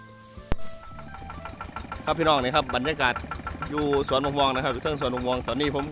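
An engine-powered herbicide sprayer runs in a mango orchard. A sharp knock is followed by the engine revving and idling in a steady mid-pitched drone, while someone talks loudly over it.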